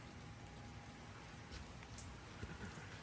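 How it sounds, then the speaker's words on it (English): Rain drumming steadily on a tin house roof in Los Angeles, a dense even hiss of drops with a few louder patters, quiet and continuous with no voices. "Oh, I think I can hear the rain is going to start to increase now."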